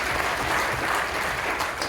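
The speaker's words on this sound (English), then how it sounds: "We'll give the Cold War a round of applause." A crowd at a veteran appreciation event applauds Cold War veterans, steady and dense clapping that is loud and close throughout.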